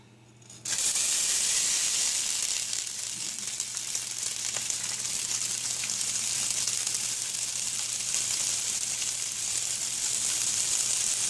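Raw rinsed rice hits hot oil in a pan and bursts into loud, steady sizzling that holds unbroken for about ten seconds after a brief quiet start, with no talking.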